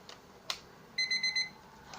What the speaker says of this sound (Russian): потому что будильник понимает то, что это вечер, и он будет звенеть